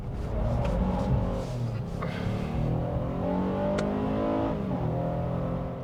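A 2024 Honda Ridgeline TrailSport pickup in sand mode with traction off drives through wet mud, its engine droning steadily and loud with rising and falling revs throughout, no voices.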